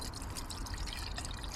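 Engine flush being poured into the engine of a Range Rover Evoque during a service, a steady close liquid trickle and glug running continuously without pause.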